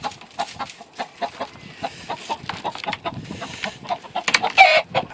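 Brassy back game fowl clucking in short, irregular bursts, with a louder squawk near the end and no talking.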